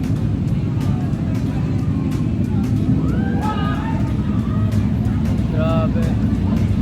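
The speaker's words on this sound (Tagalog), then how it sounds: "Sobrang dami ng motor." Many big bikes ride past in a dense stream, their engines forming a continuous heavy rumble with occasional rising and falling whines as individual motorcycles pass close by.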